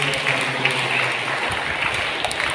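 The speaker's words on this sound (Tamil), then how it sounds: "கைத்தட்டி பாராட்டுகள்" Steady applause from a church congregation at Sunday Mass, a dense wash of many hands clapping at an even level throughout.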